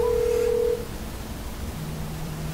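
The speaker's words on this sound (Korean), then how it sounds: "전화를 한번 걸어보겠습니다" An LG G7 ThinQ with a BTS theme places an outgoing call. A steady electronic tone sounds for under a second, then a fainter low tone follows, both clean and close with no voices.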